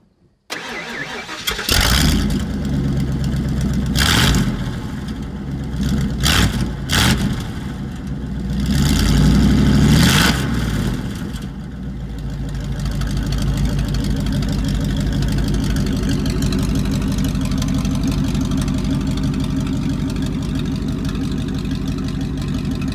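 A truck with a very loud exhaust cranks and fires up, revving hard several times in loud bursts before settling into a deep, rumbling idle.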